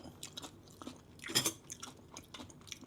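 Crisp crunching and chewing of bitter gourd close to the mouth, a series of irregular bites with one sharper crunch in the middle, with no talking.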